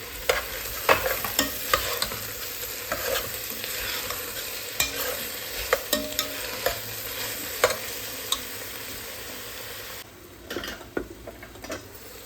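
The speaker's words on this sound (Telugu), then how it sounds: "టమాటాలు కూడా కొంచెం పచ్చి వాసన పోయేదాకా కొంచెం వేగనిద్దాం" Tomatoes fry in a pan with a soft steady sizzle while a utensil stirs and scrapes, giving irregular close clicks and knocks over the frying; no talk.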